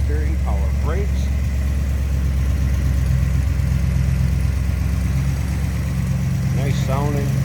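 A 1962 Ford Thunderbird Landau's 390 V8 idles steadily and close by under an open hood, a continuous low rumble with faint voices in the background.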